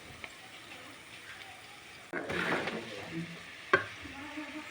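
Ridge gourd pieces and onions frying and being stirred in a pan for a ridge gourd and tomato curry, a soft steady sizzle with a louder burst of stirring midway and one sharp clink near the end.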